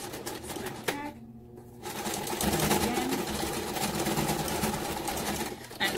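A sewing machine stitches through layers of pleather and cotton on a wristlet bag strap, running in a fast mechanical whir, pausing briefly, then sewing steadily again at close range, with a voice heard faintly.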